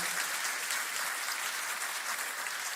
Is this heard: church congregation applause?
yes